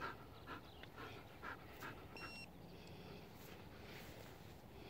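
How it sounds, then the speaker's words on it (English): A dog, a retriever-type gun dog sitting on a hunting blind, pants steadily in soft quick breaths close by, low and faint against a constant outdoor wind hiss. "Good dog. Good dog. Good dog."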